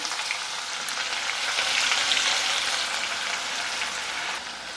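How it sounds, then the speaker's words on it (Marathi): Finely chopped onion frying in hot oil with cumin and asafoetida for Marathi matar usal, a continuous bright hissing sizzle, close and steady throughout, with no talk. "बारीक चिरलेला कांदा घालायचा आहे।"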